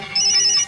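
A telephone rings on an incoming call, a single steady electronic ringtone burst at moderate loudness with no talking over it.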